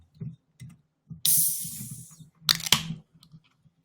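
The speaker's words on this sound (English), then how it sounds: "That's the sound of me opening an energy drink" An energy drink can is cracked open with a sharp metallic snap and hiss, followed by a second fizzy burst, close up amid soft low rustling and handling noises.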